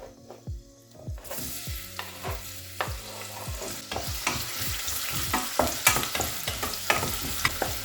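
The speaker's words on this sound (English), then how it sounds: "It's starting to sizzle." Onions for a meat pie filling sizzle in a hot pan, the crackle starting softly and building steadily, with repeated stirring scrapes and clunks of a spoon against the pan, close up and without speech.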